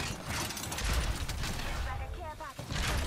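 Gunfire in Apex Legends rattles in quick bursts amid a dense game soundscape, with players talking over the action.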